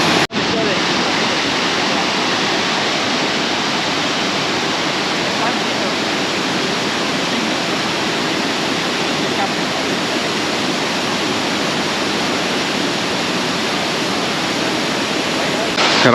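Rushing water at Jangkar Waterfall makes a loud, unbroken broadband roar that stays steady and close throughout, with no voices.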